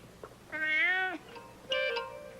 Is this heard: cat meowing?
yes